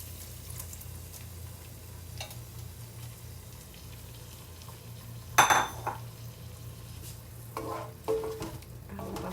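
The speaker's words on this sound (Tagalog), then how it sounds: "Ilagay na natin itong ink niya" Squid ink going into onions and garlic frying in a pan for squid adobo: a steady faint sizzle broken by a sharp metallic clatter midway and a few later scrapes and clinks of a spoon against the pan.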